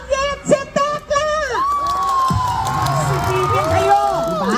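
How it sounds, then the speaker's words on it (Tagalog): An audience at a comedy show in Tondo, Manila, claps and shouts together, a dense loud crowd roar with rising and falling whoops and yells over a performer's voice at the start. "Magpalakpakan po na may kasamang sigawan, ha?"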